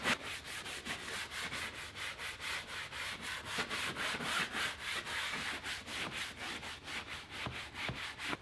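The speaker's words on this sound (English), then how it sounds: "I'm going to scrub up and down, and then this way. Do it in a cross pattern." A brush scrubs the front seat upholstery of a 1966 Ford Mustang in a cross pattern, fast rhythmic rasping strokes repeating steadily and close up with no talk.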